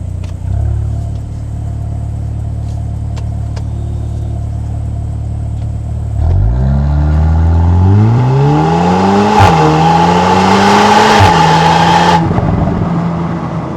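A 2025 Volkswagen Golf R engine idles low, then revs up into a deeper exhaust rumble that rises and settles, steady and close.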